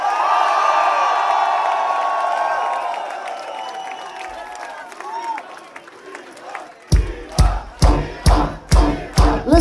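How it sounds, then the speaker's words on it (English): Concert crowd at a live metal show in Sofia, Bulgaria, screaming and cheering loudly from a sustained roar, then a voice over rhythmic booming drum hits. "Ladies and gentlemen, my friends, scream for Ivan!"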